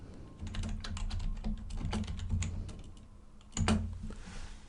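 Quiet clicking of keys as a name is typed on a computer keyboard, a steady run of light taps with a short pause and a final louder keystroke near the end, over faint background hum.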